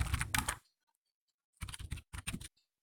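Computer keyboard typing while entering text in the Filmora video editor: two quick bursts of crisp, close clicking keystrokes separated by about a second of silence.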